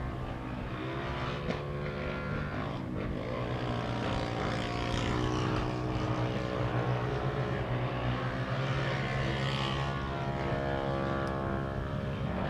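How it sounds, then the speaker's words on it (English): A race car engine drones continuously at a distance, its exhaust note rough and uneven, with no talking. "You can hear Blaine Proctor's car out there, a little different sound coming from it."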